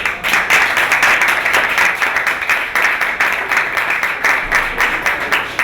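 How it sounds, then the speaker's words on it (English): A crowd at a cafe grand opening claps loudly and close by, with brisk rhythmic hand claps that pulse steadily for several seconds. "So I want to give her applause for giving the vision."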